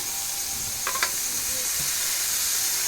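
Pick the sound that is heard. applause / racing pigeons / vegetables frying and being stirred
vegetables frying and being stirred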